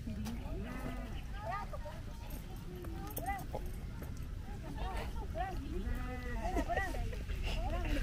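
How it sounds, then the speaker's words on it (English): Sheep bleat repeatedly at a farm while feeding, their cries rising over steady crowd chatter and children's voices, with occasional hoof-like clatter in the background. "Hold it until the sheep finish eating."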